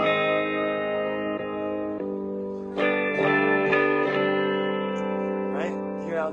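Heavily processed chords from a Line 6 JTV-69 Variax electric guitar tuned down a half step, through a Blackstar HT Club 40 amp, ring and sustain, swelling with chorus and echo as new strums land every second or so.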